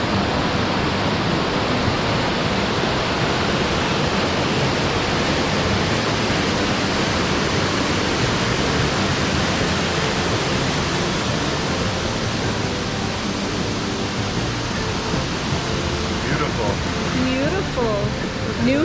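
Steady, loud rush of running water at an outdoor waterfall in New Hampshire, a dense broadband roar filling the scene from start to finish, with a few faint higher tones near the end.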